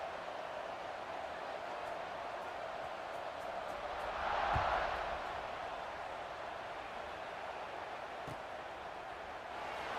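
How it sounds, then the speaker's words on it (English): Football stadium crowd at a college game against Tennessee, a steady broad roar of cheering that swells briefly in the middle, heard from a distance without commentary. "this crowd is feeling themselves after that last drive"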